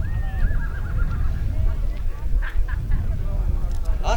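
A racehorse at a Kyrgyz horse race lets out a long wavering whinny near the start, with a few shorter neighs following over a rumbling outdoor crowd and someone talking loudly.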